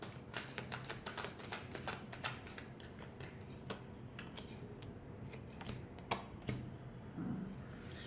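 Tarot cards being shuffled by hand produce a soft, quiet run of rapid clicks and flutters, close to the microphone, with no voices.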